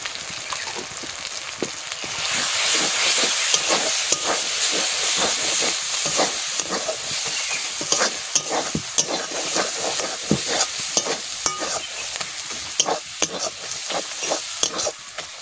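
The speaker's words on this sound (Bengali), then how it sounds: "মশলা ভাজা হয়ে গেছে" Ground spice paste of onion, garlic and ginger sizzles and fries in a pan for a mutton or chicken curry. It is stirred with steady repeated scraping clicks over a continuous close hiss.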